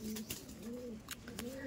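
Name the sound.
pigeon cooing, male and female pair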